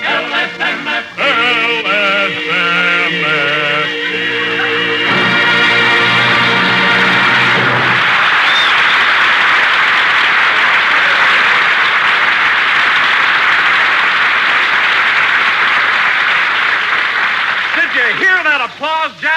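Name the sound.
studio audience applause on radio comedy program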